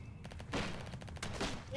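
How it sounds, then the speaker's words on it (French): Gunfire in a VR battle royale video game: bursts of shots crack out in quick clusters, loud and close, with a heavier volley near the end. "Attends, il y a ce qui nous tire, Nathan."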